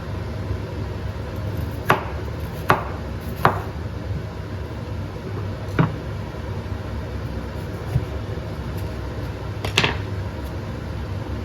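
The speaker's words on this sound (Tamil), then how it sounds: "நம்ம அதுக்குள்ளே பாவக்காவை கட் பண்ணிடலாம்." A knife cuts through tender bitter gourd in a home kitchen, a handful of sharp, separate chops spaced a second or more apart against a faint background hum, with no talking.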